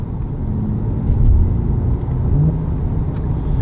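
A car with a VR30 engine and 9-speed transmission cruises smoothly, a steady low engine rumble and road drone with slight swells as it pulls, heard from inside the cabin with no talk.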